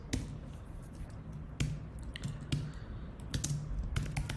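Typing on a computer keyboard while working through a React raffle-draw coding exercise, with soft, irregular key clicks and a few sharper taps at close range, fairly quiet with no talking.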